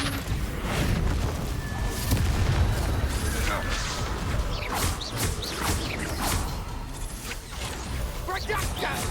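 Confringo fire spell blasting in a Harry Potter video game duel, with booming explosions and whooshes layered over dense battle noise and game music, while a voice in the game shouts spell names.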